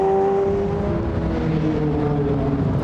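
Normally aspirated racing car engines at the Goodwood Members' Meeting, a steady loud drone of engine tones holding and slowly shifting pitch for the whole stretch, with no talk over it.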